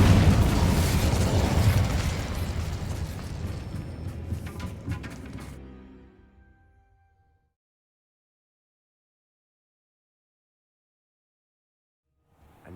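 In the Hogwarts Legacy video game, the Incendio fire spell bursts with a loud, rushing whoosh that slowly fades over several seconds into silence.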